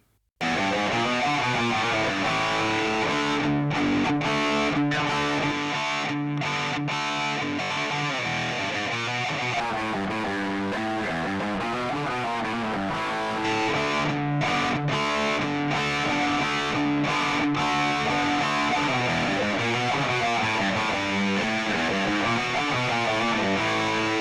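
Two distorted electric guitars play the same riff together, layered into a thick, wide wall of sound that runs steadily and loudly throughout.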